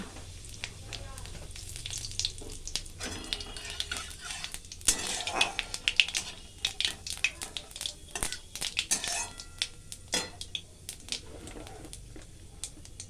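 Cumin seeds and bay leaves fry in hot oil in a pan for a potato and soybean dish, giving a steady close sizzle with crackling bursts and occasional stirring scrapes, no talk.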